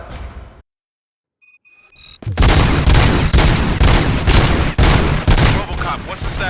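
Robots open fire in a RoboCop video game: after a brief silence, loud, dense gunfire erupts in rapid overlapping bursts that continue without a break to the end.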